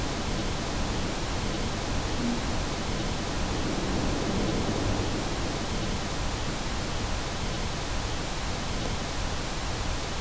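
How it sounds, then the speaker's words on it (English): A steady wash of pink noise, equalized with frequency cuts around 300 Hz and 160 Hz, hisses evenly throughout, unbroken and unchanging in level, with no other sounds. "You can see the pink noise becoming warmer."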